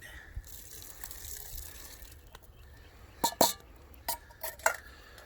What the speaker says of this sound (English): we're going to add a 15-ounce can of corn, whole kernel, not drained